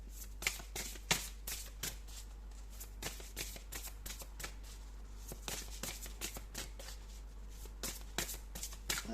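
Tarot cards being shuffled and handled, producing a rapid run of close, crisp riffling snaps and flicks with brief pauses, with no talking.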